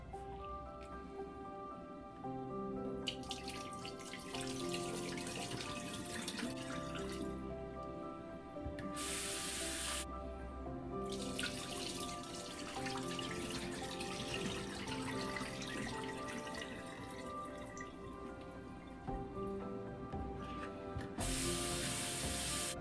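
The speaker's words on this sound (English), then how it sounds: "wash this potato twice until the water is very clear." Thinly sliced potatoes rinsed under running tap water, a steady splashing stream with drips and wet squishing as the slices are handled, continuous and close with a few louder spray bursts.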